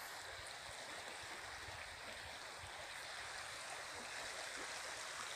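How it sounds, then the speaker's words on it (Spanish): Water of the Mixteco river in the Oaxacan Mixteca flows steadily as a broad, continuous rushing wash, faint and even throughout with no voices. "Esta es otra parte de nuestro río Mixteco."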